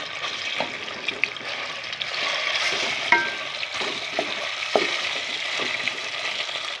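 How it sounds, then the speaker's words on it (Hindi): Chicken pieces coated in soy sauce and cornflour fry in hot oil, giving a continuous loud sizzle with occasional pops and light stirring clinks, heard close up with no voices. "यहाँ पर इसके अंदर मैं ऐड करती हूँ जो मैंने चिकन को सोया सॉस और कॉर्नफ्लोर लगा कर रखा था, इसको हम करते हैं फ्राई।"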